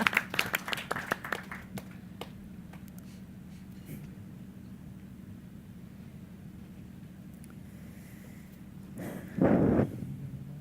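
A conference audience claps in a short, scattered burst that quickly thins out to a few isolated claps, followed by a quiet room and a brief louder rustle near the end.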